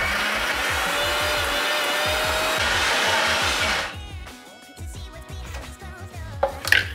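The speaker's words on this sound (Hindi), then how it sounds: "हम मिक्सी में चला देंगे।" A kitchen mixer grinder whirs loudly and steadily while blending a cocoa powder protein ball mixture, then the motor cuts off and winds down, leaving clatter and rattling from the jar.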